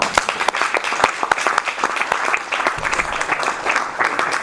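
An audience at a Dallas lecture event on Japanese politics applauds to welcome a speaker, with steady, dense clapping filling the room throughout and no voices over it.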